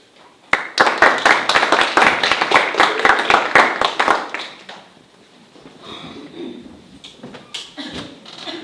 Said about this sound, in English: Please give a round of applause for Lyric.